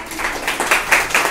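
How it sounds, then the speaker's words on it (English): Classroom applause for two winners of a sight-words activity, short bursts of scattered clapping that swell and fade, moderately loud and near. "So let's applaud them."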